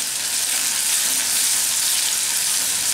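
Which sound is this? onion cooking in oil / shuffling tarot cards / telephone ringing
onion cooking in oil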